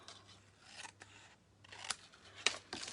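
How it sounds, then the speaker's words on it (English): Scissors cut off the edge of a sheet in several quick, close snips, quiet crisp strokes with short pauses between them. "Got to cut that edge off."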